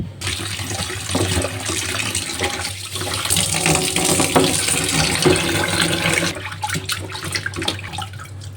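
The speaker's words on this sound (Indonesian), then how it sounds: "Sekarang kita mau cuci ya. Ayamnya kita cuci dulu ya." Running tap water pours steadily while raw chicken is washed in a sink, a continuous loud splashing rush that breaks off and resumes near the end.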